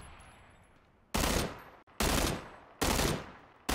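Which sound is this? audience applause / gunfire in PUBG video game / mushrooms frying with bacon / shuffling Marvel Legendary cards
gunfire in PUBG video game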